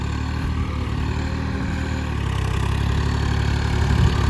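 A Massey Ferguson 255 tractor engine runs steadily nearby, a low, even diesel rumble that grows slightly louder toward the end, with no talk over it.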